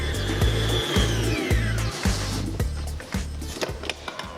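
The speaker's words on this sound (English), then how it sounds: "To the egg whites, add sugar and whisk to soft peaks." Egg whites and sugar being whisked to soft peaks for a Baked Alaska meringue: a close, steady mechanical whirr with a regular pulsing beat and a scraping rattle, no voices.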